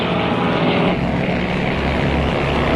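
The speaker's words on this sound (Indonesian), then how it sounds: "Pesawat tempur mereka beriringan, menembus langit dan awan putih yang membentang." Fighter jets in flight from the film Rescue Dawn produce a loud, constant engine roar, a broad sustained drone with a low throbbing undertone and no breaks.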